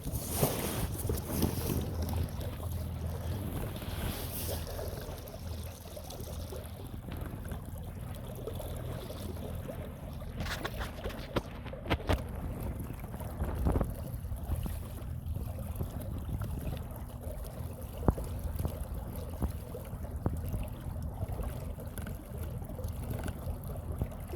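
A boat moves steadily through smooth water on the Salton Sea with continuous splashing and hull wash, a motor hum and gusts of wind buffeting the microphone.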